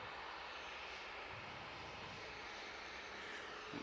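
A Ryanair aircraft at Manchester Airport gives a faint, steady engine drone, a distant even hum that runs unbroken through the short stretch with no voices.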